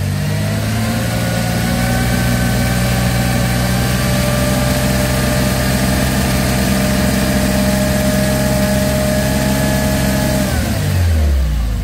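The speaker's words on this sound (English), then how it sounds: "This is actual oil pressure at idle, we're almost 60, revving to 2000." A car engine runs loudly up close, holding a raised, steady rev with a constant drone, then drops back toward idle near the end.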